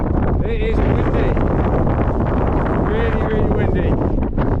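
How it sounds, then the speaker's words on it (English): Strong mountain wind in the Brecon Beacons roars and buffets the microphone throughout, a constant low rumble with faint voices underneath. "It is windy"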